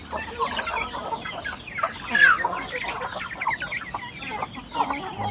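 A hungry flock of chickens clucks and chatters busily close by at feeding time, with overlapping calls and an occasional louder squawk over a noisy yard.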